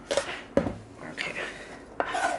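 A knife chops green onions on a cutting board in a kitchen, giving three or four sharp, separate knocks spaced irregularly, close and moderately loud with soft scraping between.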